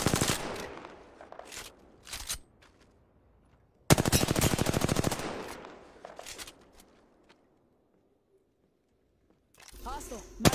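Apex Legends gunfire comes in loud automatic bursts separated by quiet gaps, with game voice callouts and interface sounds mixed in near the end.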